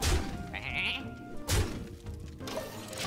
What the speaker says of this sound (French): Mon mouton, non.